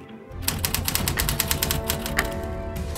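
A chef bangs away at a mechanical typewriter during a cooking show, a fast, loud run of clacking keystrokes heard up close and alone.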